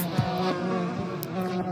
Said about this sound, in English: There's bees! And you can hear them.